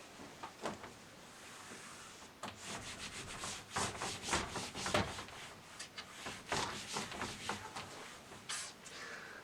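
Eraser rubbing across paper during a math lesson, soft, papery scrubbing strokes in quick irregular bursts, quiet and close, with short pauses between passes.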